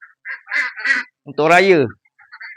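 Ducks about to be fed give a few loud, close quacks and honks in short bursts, mixed with a person talking nearby.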